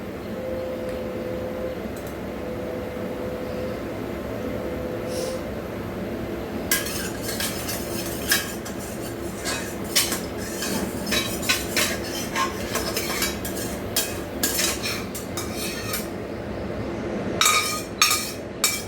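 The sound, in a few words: washing a wok (karahi) with clinking pots and utensils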